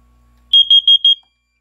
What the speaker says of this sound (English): we should test the CO detector, as always